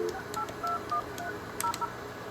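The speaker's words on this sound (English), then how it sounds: "if I call my receiver number with my desk phone," Series of short DTMF keypad tones from a desk phone dialing a receiver number, each beep distinct and evenly spaced, fairly clear over faint room noise.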